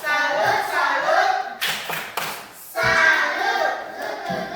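A classroom group does a rhythmic clapping salute chant, voices chanting together with sharp claps breaking in between, loud and close.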